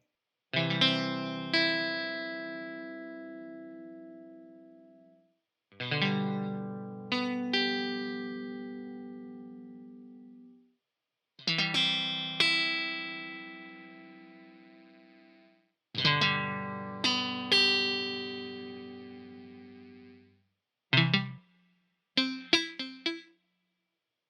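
Solid-body electric guitar with humbucker pickups plays several sustained, effect-laden chords and notes, each ringing out and decaying, ending in a few quick plucks; no talking.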